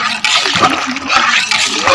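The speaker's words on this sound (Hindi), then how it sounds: "पानी थोड़ा डाल दें," Water gushes and splashes into a cooking pot of sohan halwa in a loud, continuous pour with bubbling bursts, no voices present.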